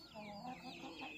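Chickens clucking steadily and close at hand, a dense run of throaty fowl calls with no pauses, from a flock of fighting roosters.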